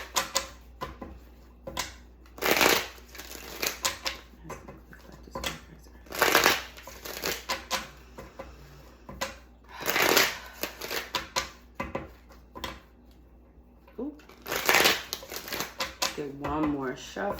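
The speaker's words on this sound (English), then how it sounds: "Get one more shuffle." Tarot cards are shuffled by hand in several short, crisp riffling bursts spaced a few seconds apart, close up, with a voice talking between the shuffles.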